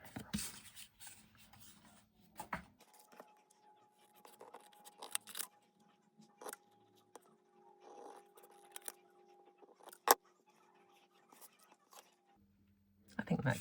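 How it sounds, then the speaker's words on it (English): Scissors cut a paper card sentiment up close, with intermittent quiet snips and rustling, separated by pauses, and a voice speaking briefly in places. "Now just cut out the sentiment and we will be finished."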